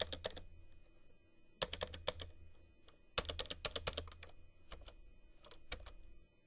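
A phone number is typed on a computer keyboard in short bursts of crisp key clicks separated by pauses, close and clear with no talking.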